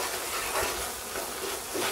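Boiling water pours steadily into flour for kachi, a Persian sweet dessert cooked outdoors, making a continuous close hiss with faint bubbling for about two seconds.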